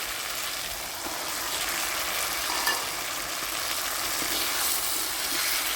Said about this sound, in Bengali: আলুটা দিয়ে আমি আবার কিছুক্ষণ কষিয়ে নেব।